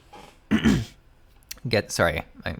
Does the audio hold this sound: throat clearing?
yes